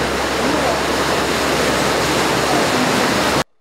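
Floodwater rushes along a street after heavy rain in Zakarpattia, a loud, steady, broadband roar like a waterfall that fills the whole clip and then cuts off abruptly.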